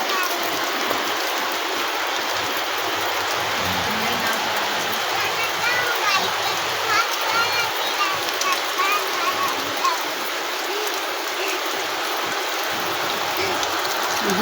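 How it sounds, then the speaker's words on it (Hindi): Heavy rain pours steadily outdoors at the start of the monsoon season, a dense, continuous hiss of drops on surfaces with no pauses. "हमारे यहाँ तो बहुत तगड़ा बारिश हो रहा है।"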